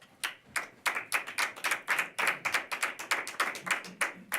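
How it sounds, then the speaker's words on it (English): A Toastmasters club audience claps after a speaker, sharp separate hand claps in an uneven, fairly sparse rhythm, close and clear, with no talking over them. "Toastmasters has a custom of clapping in between each speaker"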